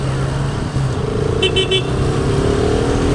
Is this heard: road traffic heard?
yes